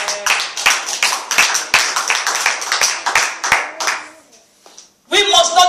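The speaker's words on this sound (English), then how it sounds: "clap for Jesus." A congregation claps in church, sharp rhythmic claps close and loud over several seconds, trailing off briefly before voices pick up again.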